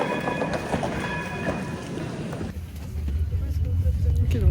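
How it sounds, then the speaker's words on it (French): A train rumbles through a Paris station near Paris Nord, with a steady low roar and rail clatter that deepens as it passes, over echoing station ambience and a brief high tonal whine early on. "Ok, donc c'est le train mais pas le métro."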